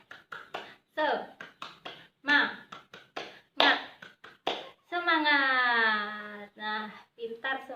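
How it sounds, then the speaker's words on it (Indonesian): A first-grade class claps the rhythmic 'tepuk semangat' chant, a quick run of sharp, close hand claps in patterned bursts mixed with children's chanting voices, then a long sung vowel near the end. "ayo kita tepuk semangat bersama-sama"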